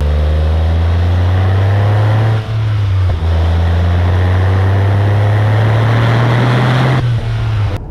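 A 1997 Porsche 993 Turbo S with its air-cooled engine accelerates hard in a loud, close, steady roar that climbs in pitch, broken by two brief dips at gear changes.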